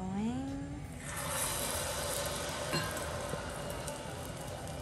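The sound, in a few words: tempura frying in oil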